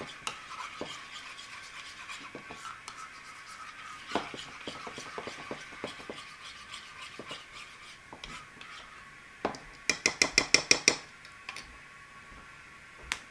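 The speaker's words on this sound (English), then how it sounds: "I'm going to stir this together so it's not so watery anymore" Potato salad being stirred in a bowl, a steady close scraping and clicking of the spoon that runs the whole time, with a quick burst of sharper taps near the end.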